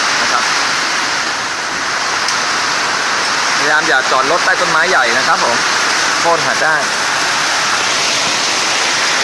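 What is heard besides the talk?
hailstorm with heavy rain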